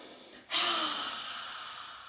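After a brief inhale, a person gives one long, forceful, breathy exhale, imitating a dragon's hiss.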